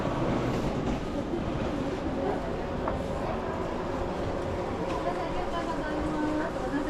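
Interior of a moving Japanese train carriage with a cafe, heading toward Nikko: a steady rumbling roll with faint rhythmic clatter underneath, continuous and fairly loud throughout.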